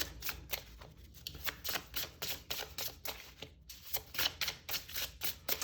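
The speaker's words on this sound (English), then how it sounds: "let's give this deck a shuffle" A deck of tarot cards being shuffled over and over, a steady run of crisp riffling flutters and soft slaps, close by with no talking.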